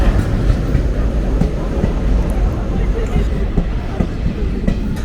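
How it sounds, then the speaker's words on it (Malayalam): Mangalore–Madgaon Express train arriving at a station, a steady loud rumble of rolling wheels and rail noise throughout, with faint clicks and voices in the background. "നമുക്ക് പോകാനുള്ള ട്രെയിനാണ് വന്നുകൊണ്ടിരിക്കുന്നത്."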